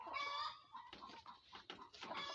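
Layer hens on a poultry farm cluck in a steady, close chorus of overlapping calls that continues throughout.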